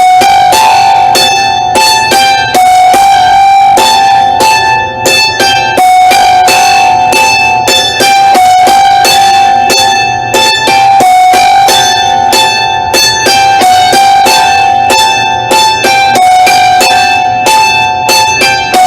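Hammered dulcimer struck in a steady run of bright, ringing notes that walk down and restart, loud and close with overlapping sustained tones and no talking, at an early-morning class.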